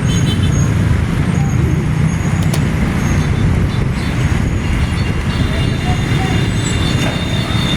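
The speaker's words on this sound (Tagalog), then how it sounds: "nagkagulo ng traffic" Chaotic road traffic in a busy area, a loud, unbroken rumble of heavy vehicles with a few faint tonal whines and clanks above it.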